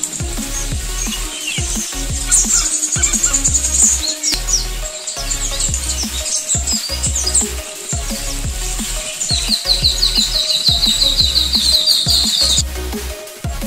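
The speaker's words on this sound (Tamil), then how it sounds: "இங்க பறவைகள் சத்தம் கேட்க ரொம்ப அருமையா இருக்கு." Birds singing in the hills near Sothuparai Dam, with bright chirps and warbling phrases repeating close by, including a rapid trilling run near the end, over faint insect buzz and soft rustling.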